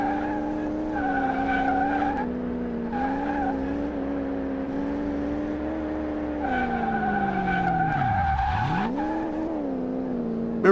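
V12-swapped Ford Mustang on likely bald tires, engine roaring loud and close as it accelerates, with long tire squeals and skidding and the engine pitch rising, dipping sharply, then climbing again.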